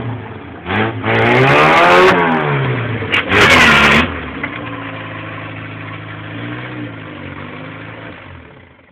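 A car engine with a rough-running fault revs hard twice in loud, rising and falling surges, then drops back to a steady, uneven idle close by.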